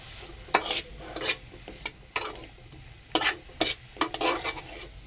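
Carrots for gajar halwa are sautéed in a pan, with a quiet background sizzle broken by repeated bursts of spatula scraping and stirring strokes, close and irregular.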